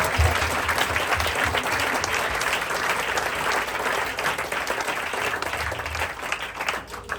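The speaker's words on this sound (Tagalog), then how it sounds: "Clap your hands to Jesus." A church congregation claps steadily and loudly throughout, sustained applause filling the space with no pauses.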